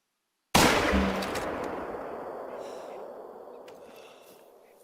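A single sharp rifle shot in the hunting video game theHunter: Call of the Wild cracks out after a brief silence, then a long reverberant tail slowly fades away.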